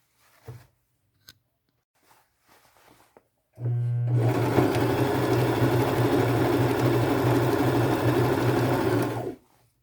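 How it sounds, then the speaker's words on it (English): After a few light clicks and taps, a sewing machine runs steadily for about six seconds, stitching elastic into the waistband of thrifted pants with a loud, even mechanical whir that stops abruptly. "I will pull it and run it through my machine 3 times"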